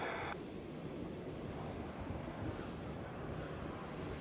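A heavy jet airliner takes off from runway 8 Right at Honolulu. A broad, steady engine roar is heard from a distance and blends into wind noise.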